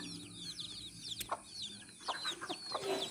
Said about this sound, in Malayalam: ഈ കോഴി 2 കുഞ്ഞുങ്ങളെ കൊണ്ടുനടക്കും